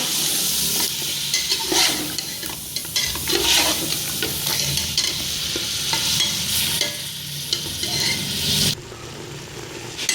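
Mutton pieces frying with spices in a pot for degi aloo gosht, giving a continuous close sizzle broken by frequent scraping stirs of a spoon over about ten seconds, with no voices.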